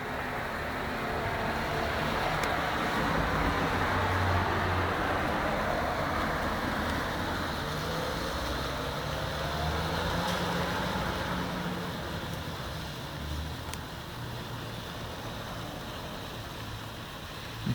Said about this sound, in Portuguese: a confusão que o caminhão está fazendo na saída. Ele não consegue sair corretamente, tem que ficar dando idas e vindas, fazendo mais barulho na vizinhança